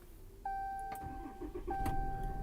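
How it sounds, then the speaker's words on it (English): A 2015 Ram 3500 Laramie 4x4 Mega Cab with a 6.7L Cummins diesel cranks briefly, then catches and settles into a steady, close diesel idle with a sustained tonal hum. "And that starts up this truck, and that diesel engine sounds great."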